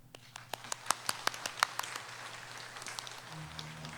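A church congregation claps for newly baptized children at a Sunday service, with sharp scattered claps that start sparse, grow denser and then thin into light applause, heard indoors at moderate distance.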